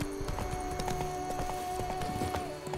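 Roach, a horse in The Witcher 3, gallops in quick rhythmic hoof clip-clops over a steady ambient music bed, close and clear, with no voices.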